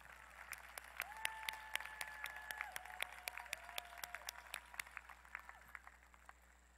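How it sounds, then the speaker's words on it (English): Audience applause at a Southern University at Shreveport ceremony, heard as a thin, somewhat distant patter of individual claps with distinct sharp hits, while a faint sustained tone hums underneath. "Let's give Ms. Harris and Charles another round of applause."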